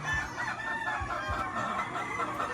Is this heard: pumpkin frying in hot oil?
no